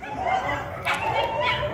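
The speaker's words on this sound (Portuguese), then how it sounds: "Toda hora tem cachorro cruzando a rua." Dogs on a city street give brief yips and whimpering barks, fairly close and moderately loud, over a steady hum of street background.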